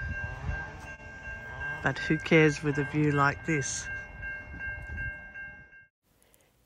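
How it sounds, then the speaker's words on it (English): A train rumbles past with its bell ringing steadily over it, chainsaws in the background, while a person talks briefly in the foreground; the noise fades out near the end. "We have the dinging of the train"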